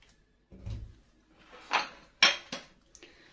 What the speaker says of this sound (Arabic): هنشيل الاشياء دي دلوقتي كده، وهناخد نجيب الحله اللي هنعمل فيها